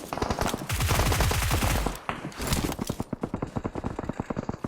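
Rapid automatic gunfire from PUBG Mobile rattles in dense, close bursts, then breaks into a steady string of separate sharp shots, loud throughout with no talking.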